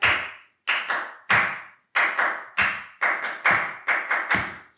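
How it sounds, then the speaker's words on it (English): Flamenco palmas: sharp, close hand claps in a lively, syncopated rhythm, about a dozen crisp claps in irregular groupings with no talking. "listen to the palmas, the clapping"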